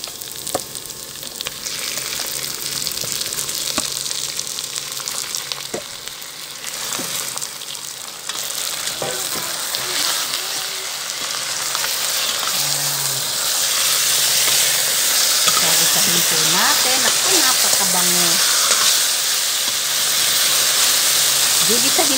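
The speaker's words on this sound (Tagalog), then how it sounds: "Lalagay ko na po ang chicken." About a kilo of chicken sizzles and fries in a pot of hot oil and aromatics for Filipino tinola, a steady loud hiss with occasional stirring clatter, growing denser toward the end.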